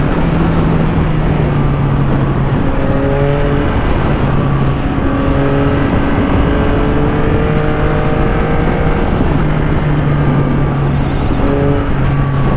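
Yamaha XSR900 2023 motorcycle engine pulling hard and climbing through fourth and fifth gear with quick-shifter changes, a loud continuous rising drone that drops briefly at each shift, heard close from the rider's position.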